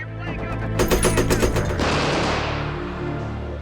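A .30 caliber machine gun fires from a tank on the set of the war film Fury, a loud, close, rapid burst of shots lasting about a second that then rings out into a long decaying echo.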